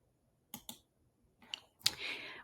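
Two quick computer mouse clicks, then a few softer clicks and a brief rustle of movement, faint and close in a quiet room.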